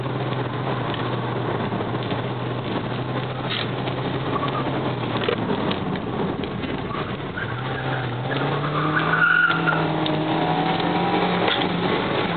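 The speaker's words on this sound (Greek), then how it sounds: "Ουρλιάζει το αυτοκίνητο." A car engine whines loudly and continuously from inside the car on a road, its pitch climbing and falling as it revs through gears, with no talk over it.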